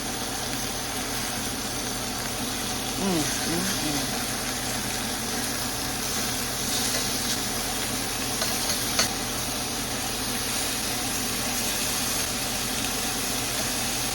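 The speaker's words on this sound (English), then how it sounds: "I'm gonna go ahead and flip them and allow them to sear on the other side." Chicken pieces searing in a pan over medium heat, a steady close sizzle and hiss that holds level throughout, with a faint low hum beneath and a few light clinks.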